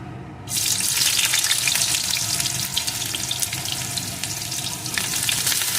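Chopped onion and whole cumin seeds frying in hot oil for a duck egg dish, a steady loud sizzle starting abruptly after a brief quiet moment and holding on evenly throughout with no voices.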